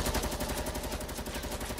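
Rapid gunfire in a video game, a fast, even, loud burst of shots repeating throughout the short moment and filling the soundscape.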